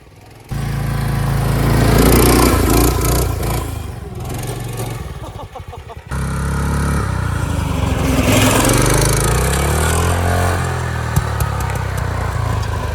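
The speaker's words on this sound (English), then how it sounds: "We couldn't mash the throttle like we wanted to because the chain kept flying off." Restored go-kart engine running while the kart is driven gently with a loose, slipping chain, a loud, close, buzzing small-engine drone that rises and falls with throttle, briefly dropping out before resuming.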